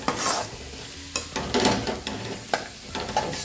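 Pea and carrot chitranna rice is stirred in a pan, with several close scraping and tossing strokes over a light background sizzle.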